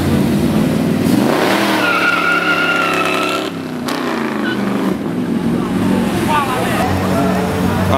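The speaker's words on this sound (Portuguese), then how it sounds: "E ali o Hot Rod acelerando." A loud hot rod engine revs and roars as it accelerates at a car meet in Praça Espanha, Curitiba, Brazil, pitch climbing and shifting, close and continuous with crowd noise and talking beneath.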